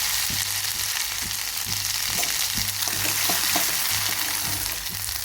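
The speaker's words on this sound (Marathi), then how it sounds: "तेल छानपैकी तापलेलं आहे मोहरी घालूयात त्यानंतर जिरे घालूयात त्यानंतर लसूण अद्रक पेस्ट घालून घेऊया" Mustard seeds, cumin and ginger-garlic paste sizzle in hot oil with a loud, dense hiss, scattered small pops and crackles, and a low electrical hum beneath, heard up close with no talking.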